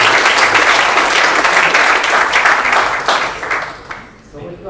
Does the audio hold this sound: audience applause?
yes